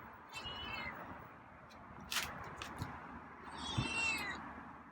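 A feral cat meows twice at feeding time, drawn-out calls about three seconds apart, close by against quiet room noise with a small clatter between.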